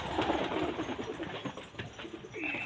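Soft pigeon cooing with low, throaty murmurs repeating over a steady outdoor background, fairly close and moderately loud.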